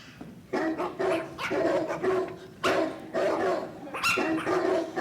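Several dogs bark loudly in repeated bursts at a stage performance of A Christmas Story, The Musical. Yips and whimpers are mixed in close by, and no one speaks.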